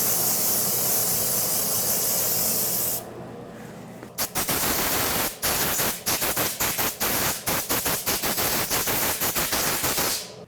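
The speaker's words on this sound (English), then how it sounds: "Let's clean up the surface with some brake parts cleaner." Brake parts cleaner is sprayed onto the front brake hub of a 2011-2014 Hyundai Sonata. A long, close aerosol blast is followed by a rapid series of short hissing bursts, with no talking.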